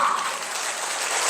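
Audience applause filling a church hall at a Christian elders' association gathering, a steady dense wash of clapping that holds evenly throughout and swells slightly at the end.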